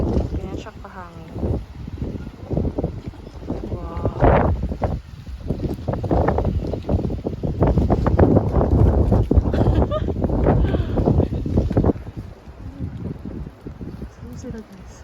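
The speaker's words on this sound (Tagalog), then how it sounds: "Ganyan siya kahangin." Strong, steady wind roars across an exposed mountain hiking trail on Mt. Ulap during a storm, heavy buffeting on the microphone running under people talking, with a brief exclamation.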